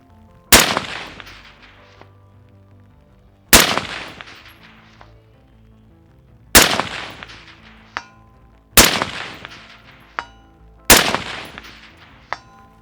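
Five loud, sharp M4A1 rifle shots fired at a 350-yard target, spaced a few seconds apart, each with a crisp crack and short ringing decay, plus a faint metallic ping between some shots.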